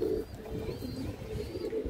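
A large khaki female pigeon coos in low, soft repeated murmurs close by, with a steady background hum and no talking.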